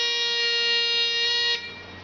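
A Wi-Fi controlled actuator's buzzer sounds a steady, loud electronic tone for about a second and a half, then cuts off, leaving a low background hum with no talk.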